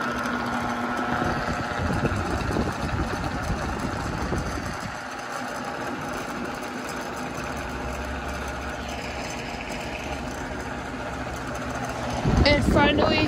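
A Lasko 18-inch oscillating pedestal fan (model 1827) runs at high speed, a steady broadband whoosh with a low motor hum that continues evenly, ending in a brief click and rattle; no talk over it.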